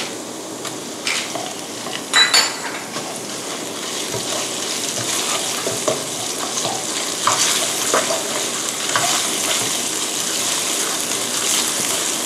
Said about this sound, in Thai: ผัดกระเทียมนะคะให้หอมนะคะ จากนั้นตามด้วยหมูสับค่ะ